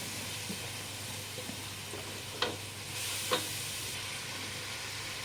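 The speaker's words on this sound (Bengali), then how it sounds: "সাথে একটু জল দিয়ে ভালোভাবে কষিয়ে নেব মশলাটা।" Soft steady sizzle of roast masala powder stir-fried with a little water, close and fairly quiet, with a couple of brief spatula scrapes over the constant hiss.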